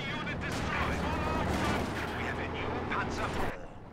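A Panzer IV tank fires in the video game Company of Heroes 2, heavy booming gunfire and rumbling battle noise filling the clip, with a voice talking over it before fading at the end.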